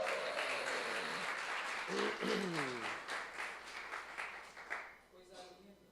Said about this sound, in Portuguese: Quem vai dar um aplauso a Jesus por isso?